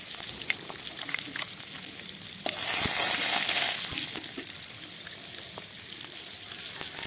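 Panch phoron, bay leaf and dried chili fry in hot oil in a wok, giving a steady crackling sizzle that swells briefly in the middle, with no talking.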